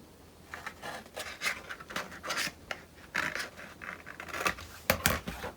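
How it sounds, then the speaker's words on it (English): Scissors cut the edge off a sheet of paper in a run of close, crisp snips and rasping slices. Each cut comes in a short bursty cluster with brief pauses between them, and no one speaks. "Here we will cut this edge off."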